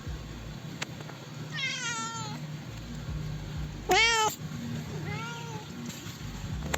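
A cat meows three times, with two longer, clear meows and then a softer, shorter one, close and loud over a quiet indoor background.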